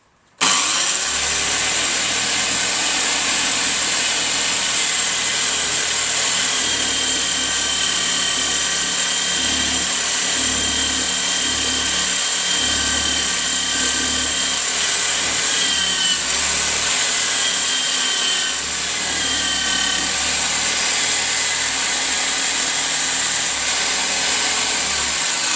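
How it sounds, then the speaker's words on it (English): An electric drill spinning a wire wheel to clean old bolt threads in a garage, a loud, steady whirring drone with fluctuating pitch that runs unbroken for the whole stretch, no talking. "there is nothing like a wire wheel for getting the thread cleaned up"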